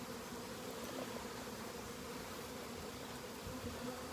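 Honeybee swarm buzzing steadily, a dense continuous drone close by with no gaps and no voices.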